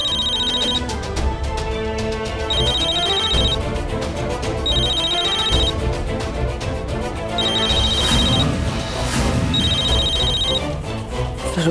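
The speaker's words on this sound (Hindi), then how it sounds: "मेरा नहीं, निशी का फोन बज रहा है।" A mobile phone rings in a Hindi TV drama scene, with repeated bursts of high trilling rings over steady background music and no talking.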